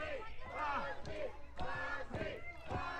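A wrestling crowd chants in unison, a rhythmic repeated call rising and falling about every half second, loud and massed across the whole clip.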